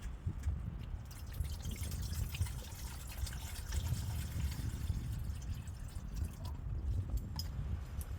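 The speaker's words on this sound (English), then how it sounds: "See how quick this water boils up on here." Water boils on a camping stove inside a winter tent, a steady soft bubbling and hissing with small drip-like pops over a low rumble, close and fairly quiet.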